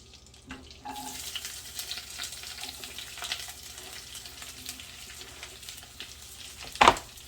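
Poblano peppers land in a hot frying pan and sizzle softly, a low steady crackle with faint clinks and one sharp clatter near the end.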